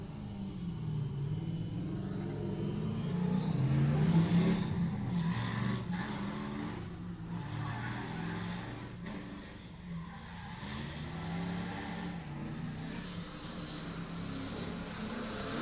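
Drift cars battling in a shootout, a red Nissan S14 against a black and white BMW E46, with loud sustained engine roar and revving plus tire noise throughout, rising and easing as the cars slide.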